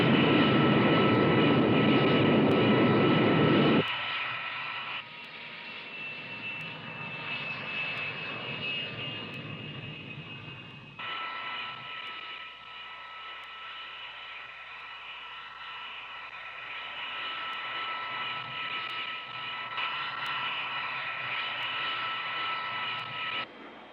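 X-15 rocket plane in flight from a film, a loud roaring engine rush at first that drops to a steadier, quieter whining drone with sustained high tones.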